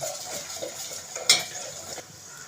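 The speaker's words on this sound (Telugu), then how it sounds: "ఒక స్పూన్ కారం, కొంచెం బెల్లము వేసుకొని బాగా కలుపుకోవాలి" A spoon stirring chili powder and jaggery in a pan of frying tamarind-soup base, quiet scraping and shuffling with one sharp metallic clink midway, no voices.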